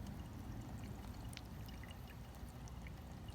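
A Poposoap solar birdbath fountain keeps water moving in a soft, continuous trickle and splash, quiet and steady with no talk over it.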